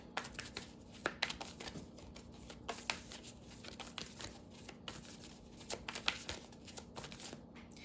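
Soft, close riffling and shuffling of a Moonology oracle card deck, a steady quiet patter of card edges with small irregular bursts, no one speaking.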